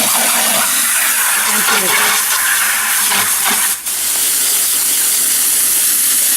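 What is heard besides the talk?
rinsing drywall tools with water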